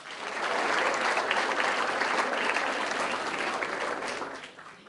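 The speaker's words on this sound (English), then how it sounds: "Encourage them with a round of applause" An audience at a lecture event gives a round of applause, rising quickly into a full, dense, steady clapping wash that holds for several seconds before tapering off.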